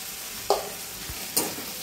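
Greens with turmeric and salt stirred together in a pan, two quick scraping strokes of a utensil over a low continuous sizzle.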